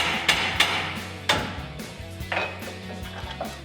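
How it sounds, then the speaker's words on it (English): Sharp metallic hammer blows strike a stuck outer tie rod on a RAM 1500 during a suspension lift install: a few spaced, ringing whacks followed by lighter clinks and tapping, close and loud in a quiet garage. "you may have to hit it with a hammer, just like I'm about to do"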